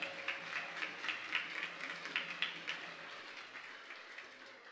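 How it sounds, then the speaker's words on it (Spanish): Faint, distant audience applause at a regional student oratory contest in Panamá Oeste, steady scattered clapping from a hall crowd that gradually tapers off. "Fuerte el aplauso para el Ministerio de Ambiente."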